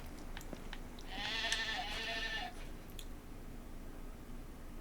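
A single sheep in the medieval colony-building game Going Medieval gives one wavering bleat lasting about a second, clear above a quiet background of faint clicks and low hum.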